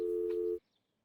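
A telephone busy or ringing tone plays as a single steady electronic beep for about half a second, then cuts off into near silence.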